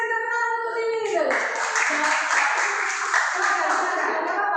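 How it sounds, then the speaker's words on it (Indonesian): A class claps together as one steady burst of applause, loud and broad, lasting several seconds after a short moment of speech at the start. "Kita kasih tepuk tangan untuk ini dulu."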